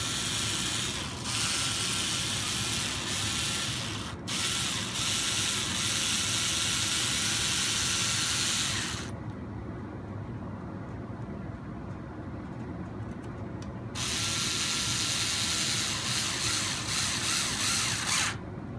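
A ratchet clicks steadily while screws are tightened on the bull bar of an RC 4x4 crawler, a loud and continuous run of close mechanical clicks with one short gap midway.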